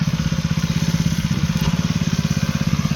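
A mini tractor ploughs sugarcane residue back into the field, its small engine chugging in a fast, steady, even rhythm close by for the whole stretch, with no voices.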